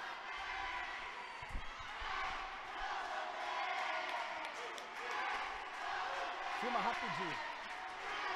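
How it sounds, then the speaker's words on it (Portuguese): Taubaté supporters in the stands at an under-9 youth football match against Palmeiras, a steady distant crowd roar with chanting under close commentary, with an occasional thud of a kicked ball. "Olha a torcida do Taubaté aí, ó."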